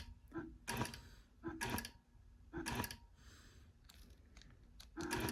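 A Grace computerized quilting machine sews a short series of tie-off stitches, heard as a few quick mechanical bursts of rapid ticking and clattering, spaced about a second apart with quiet pauses between.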